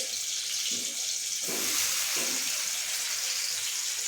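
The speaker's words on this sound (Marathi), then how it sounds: "तर आता मी सगळे टमाटर व्यवस्थितपैकी टाकून घेते" Tomatoes hit a hot pan while cheese Maggi cooks, giving a soft steady sizzle with a few brief bursts of splattering and stirring, heard close with no speech.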